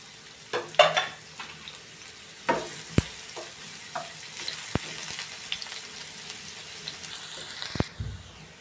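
Cumin and onion fry in hot oil for a tempering, a steady soft sizzle broken by occasional spoon scrapes and taps against the pan.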